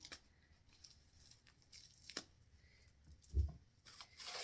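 Scissors cutting thrifted fabric, a few soft snips and rustles spaced out and faint, close by, with a louder snip near the end.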